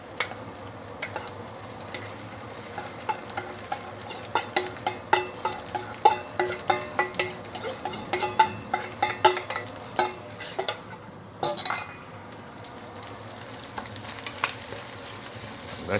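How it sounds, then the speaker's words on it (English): Seafood fried rice is stir-fried with garlic oil in a wok, a soft steady sizzle broken by frequent sharp scrapes and clanks of a spatula against the metal, close and fairly quiet with no talking. "You will notice it's easier to stir fry now because of the garlic oil earlier"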